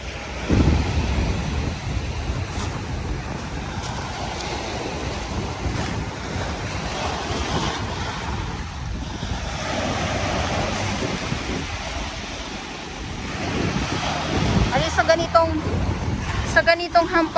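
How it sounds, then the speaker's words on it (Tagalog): Strong waves crash and surge along the Manila Bay shore in a steady roar, with gusting wind buffeting the microphone and a voice talking over the surf, which grows choppier toward the end. "Sa ganitong hampas ng malakas na alon"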